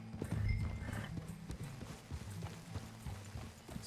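Horse hooves clip-clopping in the video game Red Dead Redemption 2, a steady rhythmic series of close hoof clops at a walking pace, with a brief whinny-like tone early on.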